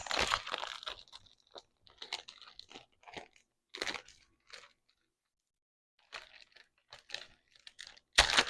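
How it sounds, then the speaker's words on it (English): Clear plastic packaging around a clear planner cover crinkles and tears close up in irregular rustling bursts, with a short quiet pause and a sharp final rip. "So I purchased a clear cover for the planner. This is really nice. Let's see if I can unwrap this."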